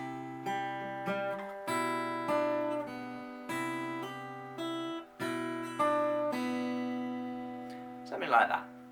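Plucked fingerstyle acoustic guitar notes and chords of an Irish tune ring out in a steady picked pattern, clear and close, ending with a brief scratchy strum.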